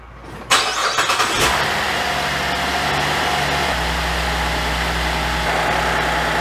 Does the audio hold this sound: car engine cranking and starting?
yes